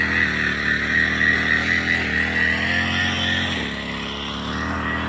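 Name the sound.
grass cutter being used by plantation worker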